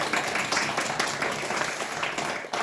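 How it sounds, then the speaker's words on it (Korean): A church congregation applauds its youth praise team with steady, moderately loud clapping from many hands that runs throughout without a break. "섬기는 우리 청소년들과 또 섬기는 은혜로 섬겨주시는 찬양팀을 위해서 격려의 박수 한번"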